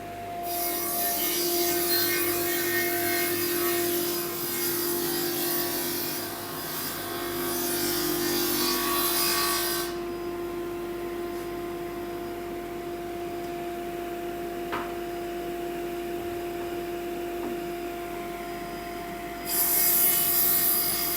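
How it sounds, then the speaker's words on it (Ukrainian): Loud, continuous rasping of a saw cutting through oak wood with a steady hum, pausing briefly before the cutting resumes near the end. "Зараз ми розріжемо на пилі і подивимося, як е, пройшов колір всередину."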